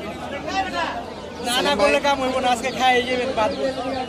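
Pigeons at a pigeon market in Jinjira, Bangladesh, including a pair of chila pigeons, cooing and rustling close by under constant market chatter and someone talking.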